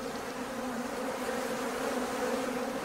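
Honey bees in an opened hive on a Victorian-style farm, a dense continuous buzzing hum, steady and close with no voices.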